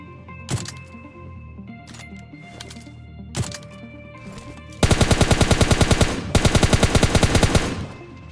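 Gunfire in the video game PUBG Lite: a few single loud shots spaced apart, then two rapid automatic bursts of evenly spaced cracks, close and loud, with no talk over them.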